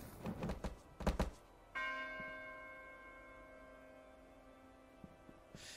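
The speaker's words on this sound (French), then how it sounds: "J'ai fait sonner une cloche." A church bell in the video game Those Who Remain is struck once after a few dull thumps, then its bright tone rings out and slowly fades for several seconds.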